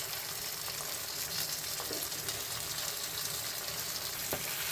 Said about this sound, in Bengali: চিংড়ি মাছগুলো আমি ভেজে নেব।